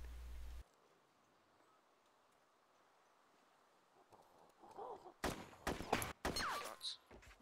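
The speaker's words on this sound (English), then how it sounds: "Shots. That's me killing a zombie." A short burst of several gunshots from the video game DayZ as a zombie is killed, loud sharp cracks arriving after a quiet stretch of faint ambient rustle.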